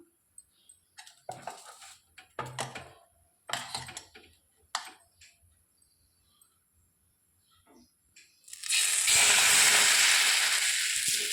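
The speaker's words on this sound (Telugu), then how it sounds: "ఇప్పుడు ఇన్స్టంట్ దోశ వేసుకుందాం." Instant dosa batter hits a hot pan and bursts into a loud, steady sizzle after a stretch of quiet clinks and handling noises, close by.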